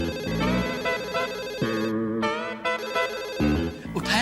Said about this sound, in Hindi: अभी पूरी रिंग चली गई, लगता है वो घर पहुंची नहीं है अभी तक